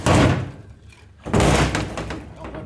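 A 2015 Ram Cummins transmission being flipped over on the shop floor produces two loud, close, heavy clunks about a second apart, each followed by a rattling decay.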